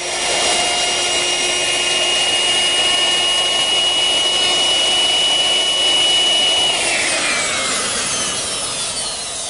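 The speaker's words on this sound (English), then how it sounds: "to round that over I used a 1/2-inch radius bit" Router with a 1/2-inch radius bit rounding over the top edge of a wooden backsplash for a Shaker wash stand. A loud, steady close whine with a continuous rushing cut runs unbroken, and the pitch shifts slightly near the end.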